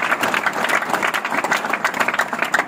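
A crowd claps in a dense, continuous burst of applause, loud and close, with no voices over it.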